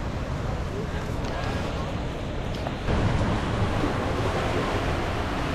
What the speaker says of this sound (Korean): 가만히 있으니까 파도가 엄청 세게 들어와요